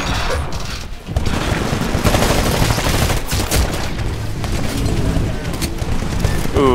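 Continuous rattling gunfire and explosions in the mech shooter Titanfall, including the smart pistol, loud and dense throughout with brief quieter gaps and a boom near the start.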